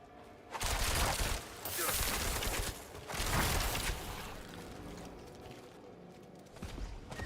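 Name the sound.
rapid-fire chain guns firing in Diablo 4 video game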